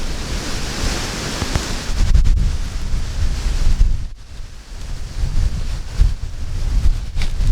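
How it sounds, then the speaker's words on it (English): Strong, gusting storm wind roars into the microphone outdoors among trees, with heavy low rumbling buffets that surge and ease over several seconds, no voices. "It's really windy, bad windy."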